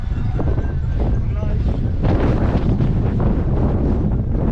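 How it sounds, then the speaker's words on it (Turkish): Strong wind buffets the microphone in a constant roar, with talking mixed in underneath. "Rüzgar bizi geri ittiriyor. Çok rüzgar var."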